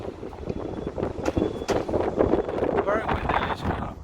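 Wind gusts through downtown Chicago streets while someone walks near Grant Park and Michigan Avenue, a loud, rushing roar buffeting the microphone for several seconds, with a faint voice and street noise underneath.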